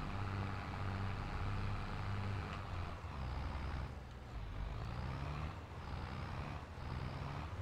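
A farm vehicle drives in Farming Simulator 22 with a low, steady engine drone that rises and dips gently, faint and continuous, with no talking.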